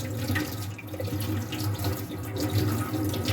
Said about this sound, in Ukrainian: Так само добре в воді ось тут промиваємо